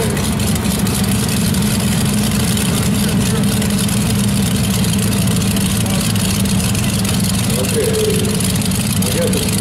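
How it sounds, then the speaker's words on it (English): A modified 1949 International Harvester W9 tractor with a 427 Chevy engine rumbles steadily and loudly at a steam and gas show tractor parade, a constant heavy drone with a voice commentating over it. "It's a slightly modified 1949 International Harvester W9 with a 427 Chevy engine in"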